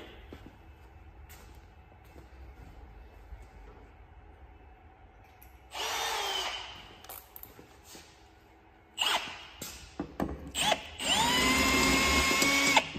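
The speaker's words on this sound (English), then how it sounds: "You got to drill these rivets out right here" Power drill boring out rivets on a vehicle's tunnel and taillight wire channel, with quiet workshop hum first, then a sharp burst of drilling near the middle and several louder, longer bursts toward the end.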